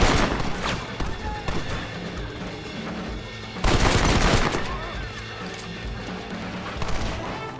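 Rapid bursts of Red Dead Redemption gunfire crackle in a dense, continuous volley, with a heavier flurry of shots near the middle, loud and close throughout.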